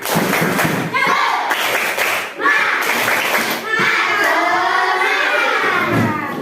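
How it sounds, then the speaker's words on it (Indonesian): Schoolchildren repeat a rhythmic classroom clapping chant, sharp claps and thumps in patterned bursts mixed with loud group chanting voices, close in a room. "Sekali lagi tepuk semangat."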